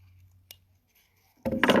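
Scissors snipping through a cardboard egg carton while making flower shapes, a tiny click, a pause, then a short crisp crunch of the cut close by.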